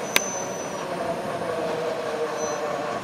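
A CSX freight train rolls slowly through Charlottesville at about ten miles an hour, a steady close rumble of cars with a sharp clank near the start and faint wheel squeal threaded through.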